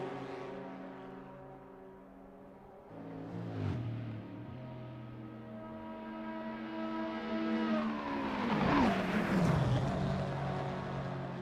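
Race car engines in Assetto Corsa, running a simulated 24 Hours of Le Mans on the Mulsanne Straight, drone with rising and falling whine as they pass, peaking in a close roaring pass near the end.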